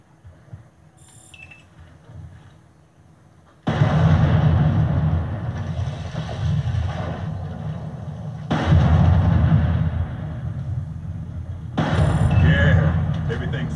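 Loud M16A2 rifle fire at barrels in a video game comes in three long, heavy stretches of shots, close and booming, with short quiet gaps between them.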